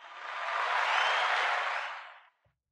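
A short canned applause effect fired from a Rodecaster Pro sound pad swells up, holds for about two seconds and cuts off cleanly, heard alone.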